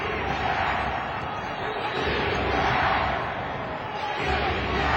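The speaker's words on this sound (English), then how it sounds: "And the crowd has come back" A basketball arena crowd at an NBA playoff game roars and cheers in a steady, loud wash of noise that swells and dips slightly but never drops out, with no clear voices standing out.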